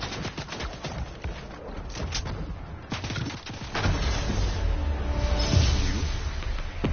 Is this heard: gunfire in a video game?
yes